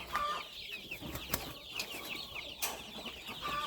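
Half-grown chicks in a coop drink vitamin-treated water, their busy high chirps and soft clucks overlapping continuously, close and moderately loud, with a few sharp taps mixed in.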